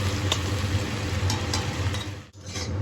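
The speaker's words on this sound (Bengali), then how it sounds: "ভালোভাবে নেড়ে চেড়ে ভেজে নিয়েছি" Onion, garlic and ginger stir-fry in a pan with a continuous hissing sizzle and a few faint clicks of stirring, and no one is talking.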